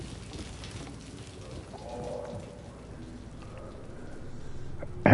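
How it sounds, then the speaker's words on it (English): Rain falls steadily in the Fatal Frame 2 video game, a soft continuous hiss of drops at moderate volume with a few faint sounds mixed in. "Rain is supposed to be cold."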